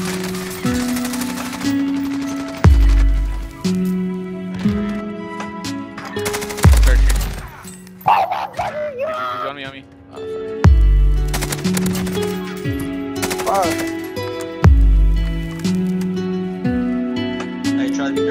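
Bursts of automatic gunfire in Call of Duty: Warzone, loud repeated volleys separated by short pauses, with voices talking intermittently in between.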